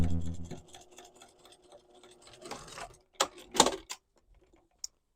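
A sewing machine stitches the seams of a summer skirt in short mechanical bursts, with a quick run of rapid needle clatter and a few faint clicks afterward.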